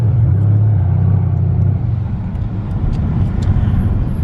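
A 2016 Mercedes C63 S AMG engine drones steadily and loudly while driving, a deep continuous rumble close by with no voices over it.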